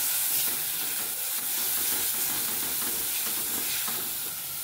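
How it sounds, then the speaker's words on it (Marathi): Finely chopped tomato sautéing in a pan for a Satara-style black bean curry makes a loud, continuous sizzling hiss with faint stirring scrapes throughout, and no one talks. "एक टोमॅटो छोटं बारीक चिरलेलं टोमॅटो आहे ते आपण आता परतून घेऊया"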